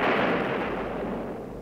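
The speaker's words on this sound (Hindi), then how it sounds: "सवेरा होते ही झांसी की तोपें फिर गरजने लगी।" A single booming cannon shot evoking artillery fire, a loud dense burst that slowly decays into a rumbling tail with no talk over it.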